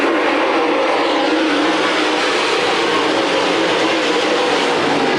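NASCAR dirt-track race cars accelerating on a restart at Adams County Speedway in Iowa, a dense, loud, continuous roar of engines filling the air without a break.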